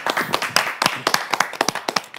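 Several people clap in a quick, uneven patter of sharp hand claps, close and steady for a couple of seconds as a welcome on a live-streamed show.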